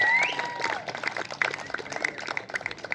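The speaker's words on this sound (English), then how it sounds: "Round of applause for Uncle Bob, please." Scattered clapping from a gathered audience at a celebration-of-life memorial, honoring Uncle Bob; a voice and tonal sounds open it, then uneven, moderately close claps continue with crowd murmur.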